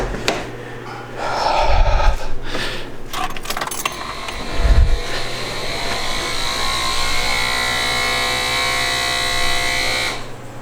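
A faulty electric vacuum pump in a Smart electric car starts with a couple of thumps, then settles into a steady electric hum and whine that runs continuously before cutting off.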